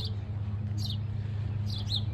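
Birds at a bird box give two short, high chirps, one early and one near the end, over a constant low hum, with no voices.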